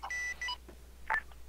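A telephone rings with a short electronic tone pattern: two quick beeping bursts close together, a pause, then another brief tone, fairly faint and with no voices.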